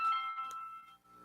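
Electronic phone call connecting tone, a steady buzzing chord of pure pitches held for about a second, fairly close and clear with no talking over it.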